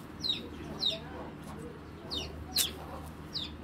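Racing pigeons of foreign bloodlines give a few short, separate calls, roughly four or five brief bursts spread at intervals over a steady low background hum, with no talking.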